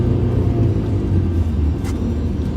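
Engine of a manual transmission car just after a gear shift, a steady low rumble and drone from inside the cabin at moderate revs, loud and even with no voices.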